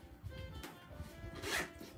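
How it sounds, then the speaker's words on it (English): Zipper on the interior pocket of a luxury handbag being opened, a brief soft rasping pull that swells near the end of the two seconds, close and fairly quiet. "We've got our zipper pocket back here."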